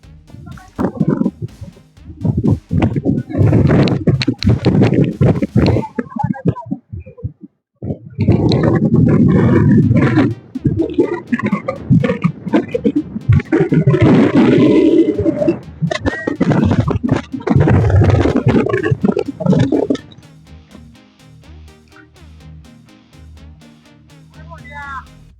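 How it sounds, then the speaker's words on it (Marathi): Strong wind buffets the microphone on an open hilltop near Panchgani lined with running windmills, loud roaring gusts in long surges with a brief lull around eight seconds, dropping to a quieter low rumble in the last few seconds. "वारं इतकं आहे, वारं खूप आहे"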